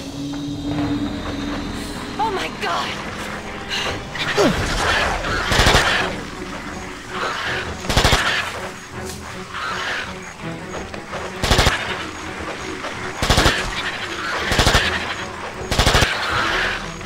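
Gunfire in the King Kong video game, with bursts of rapid shots and sharp single blasts repeating over a noisy in-game background, and a voice speaking at times.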